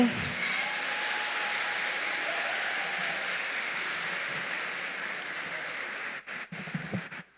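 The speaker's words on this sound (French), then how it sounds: "Je vous demande de les applaudir encore." A congregation at a thanksgiving Mass for a school graduating class claps steadily in a long, even round of applause that breaks up into a few scattered claps and noises before fading out.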